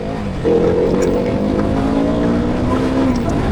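A KTM Duke 200 BS3 motorcycle engine revs loudly and close by, holding a strong, steady buzzing tone that rises and wavers slightly as the throttle is held open.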